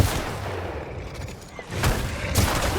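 Gunfire in The Outer Worlds: a few muffled, booming shots with a low rumble, moderately loud over a steady game background, no speech.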